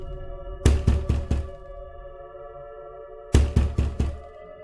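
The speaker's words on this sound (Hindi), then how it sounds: "फिर वह उस घर का दरवाजा खटखटाती है।" Knuckles rap on a house door at night, two bursts of four sharp knocks separated by a pause, loud and close over a quiet sustained musical drone.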